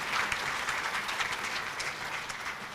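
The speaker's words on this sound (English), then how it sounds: "a big round of applause for the Elsinore High School Junior ROTC." An audience applauds the Elsinore High School Junior ROTC at a 2012 State of the City address, a steady, dense clapping that holds at even loudness throughout.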